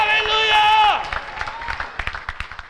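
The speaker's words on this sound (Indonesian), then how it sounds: "Yang masih hidup berikan tepuk tangan yang meriah." A church congregation breaks into clapping during a Sunday worship service, coming in just after a sustained musical tone fades. The claps are moderately loud, uneven and scattered, carrying through to the end.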